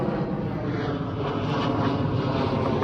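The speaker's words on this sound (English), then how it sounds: "Why do they always want to fly the planes when I'm making the videos?" A steady, loud drone of an airplane passing overhead outdoors, a broad engine roar that holds constant for a few seconds without any voices.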